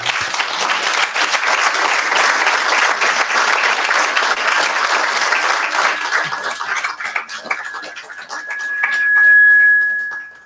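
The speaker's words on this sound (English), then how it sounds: "big round of applause already for this team" Sustained applause from a retreat audience honouring the team, a dense steady clatter of many hands that gradually thins out, ending with a rising tonal whine near the close.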